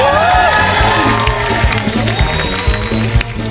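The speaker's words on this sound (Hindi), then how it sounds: "आजा आजा, जोरदार तालियां।" A studio audience on The Kapil Sharma Show cheers and applauds loudly and continuously, with crowd whoops over background music and a dense, sustained roar.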